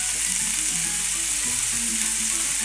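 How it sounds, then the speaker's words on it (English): Bacon and chorizo sizzle in a hot frying pan for Spanish-style stuffed calamari, a steady, close, crackling hiss that carries on alone throughout. "The first thing I'm going to chuck in is the bacon. Put the chorizo"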